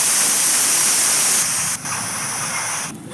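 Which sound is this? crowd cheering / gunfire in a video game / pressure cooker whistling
pressure cooker whistling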